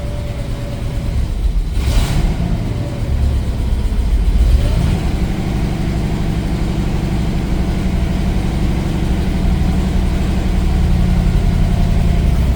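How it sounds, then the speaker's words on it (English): A 1964 Mercury Comet wagon engine runs on a cold day with the choke pulled out, idling roughly with a couple of brief revs early on and then settling into a steady, loud, close idle. "Just kind of give it some gas here."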